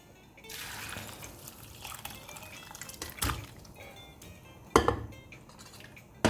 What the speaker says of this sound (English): We are going to take this potli and slightly squeeze it to remove any liquid that's in there